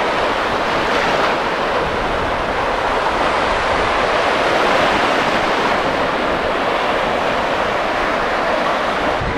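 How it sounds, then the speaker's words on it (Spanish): Sea surf breaking on a beach near Tulum, Mexico, a loud steady roar of waves washing ashore with broadband hiss and some wind, no voices. "Pero se oye el mar."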